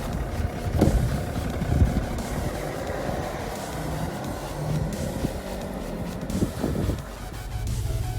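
A 2009 BMW E60 530d LCI diesel saloon cruises in drive while joining a bypass, giving a steady low road and engine rumble with wind noise and a few brief bumps, with no talk.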